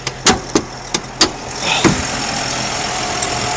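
A 2005 Infiniti G35 coupe engine runs, with several sharp ticking clicks at the start giving way to a steady, close running drone, and no voices.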